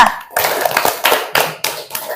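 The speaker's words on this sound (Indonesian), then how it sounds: "Tepuk tangan juga untuk Alisa." Students in a classroom break into applause with a few short, loud bursts of hand clapping close by, separated by brief gaps.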